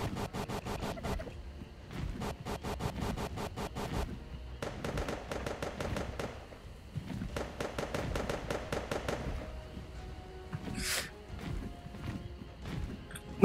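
Fireworks in ARK: Survival Evolved on a PvE server at night, set off with a rocket launcher. Rapid crackling bursts come in volleys separated by short gaps, with one whistling streak near the end.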